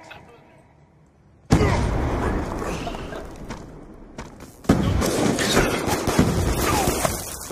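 A concussion grenade goes off in Black Ops 2 multiplayer, a sudden heavy blast followed by a second loud burst a few seconds later, with ringing noise and game effects continuing after.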